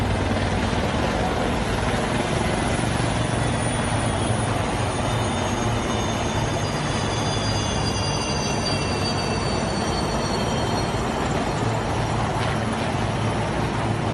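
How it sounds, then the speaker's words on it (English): A dense, loud, steady roar of South African Air Force helicopters flying in a large formation, with faint high whines drifting above the constant rotor and engine rumble. "These South African Air Force helicopters flying in a huge formation"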